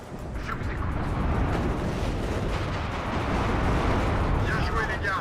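Artillery fire in the war strategy game WARNO: a dense, continuous rumble of distant barrages and blasts that holds steady and loud throughout, with no clear gaps between impacts.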